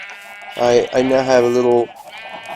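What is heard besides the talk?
sheep bleating in a video game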